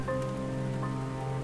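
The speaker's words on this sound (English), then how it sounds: "Towards the end of the hour, the rain started to subside, while Dominic" Rain falls steadily onto a surface in a continuous even patter, with a low steady hum underneath and no voices.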